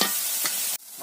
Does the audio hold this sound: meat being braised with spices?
yes